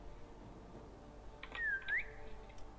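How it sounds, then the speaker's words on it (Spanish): A short rising-then-falling whistle from the player character in the stealth video game Assassin's Creed Chronicles China, a single faint tone over quiet background game ambience. "Voy a usar el silbidito."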